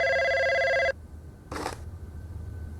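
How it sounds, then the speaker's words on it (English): A telephone bell rings in one loud, sustained burst that cuts off abruptly, followed by a brief muffled clatter in a quiet room. "Oh, the phone woke him up."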